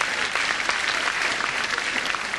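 Comedy club audience applauding at a Dara O'Briain stand-up show, a dense, steady round of clapping filling the room at close range with no break.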